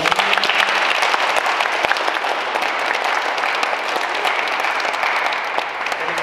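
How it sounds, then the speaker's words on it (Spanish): Loud, steady applause fills a baptism ceremony in a church, with many hands clapping continuously and evenly throughout. "Pues vamos a darle otro fuerte aplauso."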